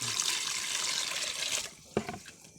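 Water pouring and splashing over a freshly caught bandicoot rat as it is rinsed, a steady running gush for under two seconds, then a brief splash and trickle.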